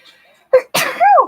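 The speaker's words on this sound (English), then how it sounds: "I can't stop sneezing on this live." A single loud sneeze close by: a short sharp intake followed by a forceful burst, with no talking.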